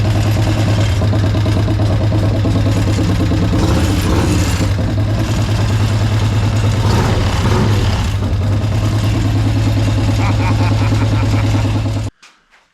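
A Harley engine mounted in a golf cart runs at a loud, throbbing idle with a deep steady pulse and some uneven revving, then cuts out abruptly near the end, leaving a couple of faint clunks.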